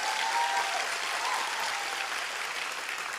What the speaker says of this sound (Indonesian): saya minta tepuk tangannya semangat dengan acara sholawatan hari ini